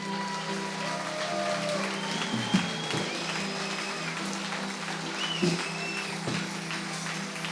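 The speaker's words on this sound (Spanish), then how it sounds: "Dele aplauso al Señor" Steady applause from a church congregation, dense and continuous clapping with a sustained organ or keyboard tone underneath and a few brief sung or spoken notes over it.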